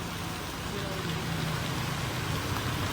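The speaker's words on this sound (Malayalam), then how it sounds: "ചിറാപ്പൂഞ്ചി മഴ" Heavy rain pours down steadily as a dense, unbroken hiss with a low rumble under it, the same loudness from start to finish.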